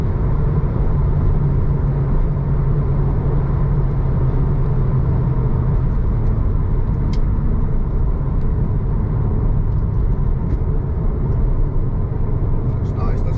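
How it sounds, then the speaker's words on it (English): Ford Focus ST3 hatchback pulling hard through an overtake, a steady loud engine and road roar filling the cabin from start to finish, with a voice talking over it. "Much power just to make an overtake in no time."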